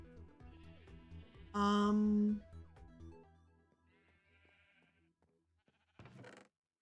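Sheep bleat in Minecraft, one loud, close, game-style bleat followed by fainter bleats and another brief cry near the end over quiet background game sounds.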